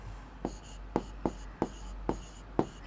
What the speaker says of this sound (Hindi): तो सबसे पहले हम ये एंगल लिखते हैं.